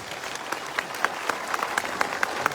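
An audience at a political gathering in Punjab claps in welcome of a guest, a dense, even round of applause from a sizeable crowd heard alone, fairly loud and steady throughout.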